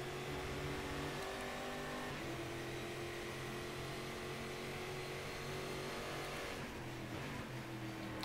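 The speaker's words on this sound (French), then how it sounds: "je vais vous laisser profiter un petit peu du son de ces voitures" Simulated stock car engines in the racing game Game Stock Car Extreme roar steadily and loudly throughout, with sustained high revving and shifting engine tones from several cars at close range and no talking.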